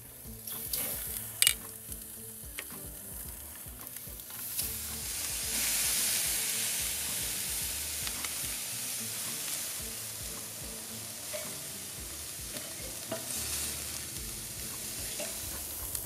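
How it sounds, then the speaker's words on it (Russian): Shrimp and squid frying on a grill pan, a fairly quiet, steady sizzle with occasional scrapes and clinks of a utensil, continuing without talk. "А мы быстренько обжариваем креветки и кальмар"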